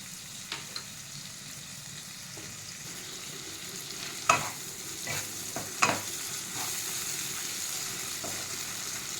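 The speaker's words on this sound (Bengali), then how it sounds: "এবারে আমি 3 থেকে 4 মিনিট ভালো করে চিংড়ি মাছ দিয়ে কষিয়ে নেব।" Raw prawns frying in spice masala and cream in a pan, a soft continuous sizzle with occasional spatula scrapes and two louder clatters, close by and with no voices.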